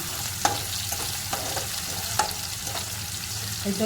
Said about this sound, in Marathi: थोडंसं आपण परतून घेणार आहोत आपला कढीपत्ता